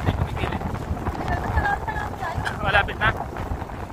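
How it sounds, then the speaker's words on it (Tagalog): Strong wind rushes over the microphone aboard a boat on a rough sea in the rain, gusting and buffeting close by while voices talk intermittently over it. "Hangin lang yan."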